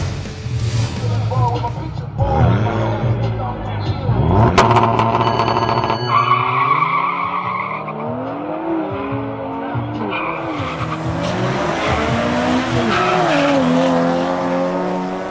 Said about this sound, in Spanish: El siguiente en clasificar es el BMW M240 de Camilo Forero.